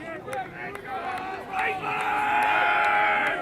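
Crowd murmuring and calling out at a high school baseball playoff game between West Side and Northampton, a steady distant hubbub with scattered sharp knocks that swells in the second half.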